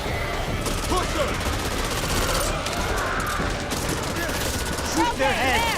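Gunfire in the co-op zombie shooter Back 4 Blood during Act 1 on the Hell's Bells mission: a loud, dense, nonstop fusillade of shots, with some voices mixed in underneath.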